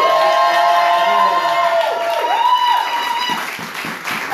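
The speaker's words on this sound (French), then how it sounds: "il faut l'acclamer vraiment fort" Church congregation in a Paris service cheering and applauding, a loud mass of clapping, whoops and shouts with a sustained sung or shouted voice over it, tapering slightly toward the end.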